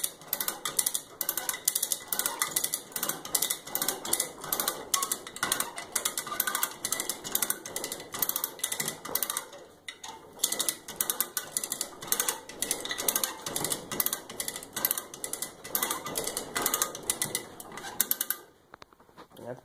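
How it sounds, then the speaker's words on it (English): A hand winch ratcheting steadily to hoist a Briggs and Stratton 10 hp engine out of a Simplicity 2210 lawn tractor, a dense run of rapid metallic clicks lasting most of the clip with a brief pause midway. "hopefully I have this winch set up high enough"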